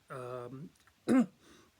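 A short, rough throat clear close to the microphone, coming after a brief burst of voiced sound, then quiet.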